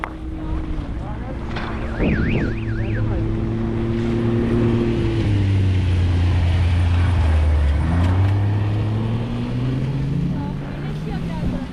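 A car accelerating downhill on a mountain road in the Sölden glacier area. The engine drone rises and falls in pitch under steady wind buffeting, with a voice speaking briefly over it.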